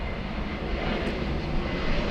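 An Air Premia Boeing 787 from Seoul departing LAX, heard as a steady, broad jet engine roar that holds evenly throughout, moderately loud and continuous with no voices.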